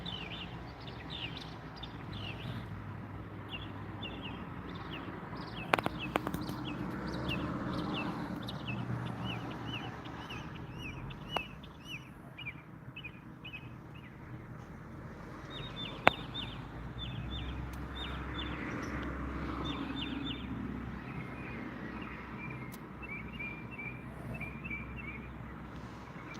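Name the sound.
birds singing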